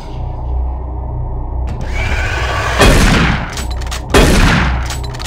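A shotgun fires twice in DOOM 3 on Mars: two loud, sharp blasts a little over a second apart, each with a short ringing tail over a low background hum.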